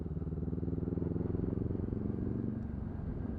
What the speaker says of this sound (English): Ooh, Reliant Robin.